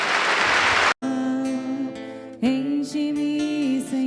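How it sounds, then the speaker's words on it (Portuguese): A church congregation claps in a short, dense burst of about a second, which cuts off abruptly and gives way to sustained tonal music. "Pode aplaudir o Senhor"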